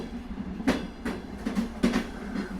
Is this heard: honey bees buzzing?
no